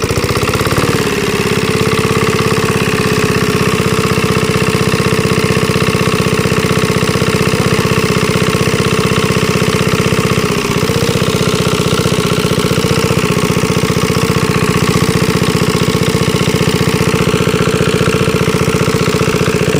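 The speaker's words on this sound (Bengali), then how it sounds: "এই যে আমার অবশ্যই মেশিনটা স্টার্ট হয়ে গেল।" A shallow water-pump engine starts and runs steadily beside a river, a loud, continuous chugging drone with a brief dip near the middle before settling back into its even rhythm.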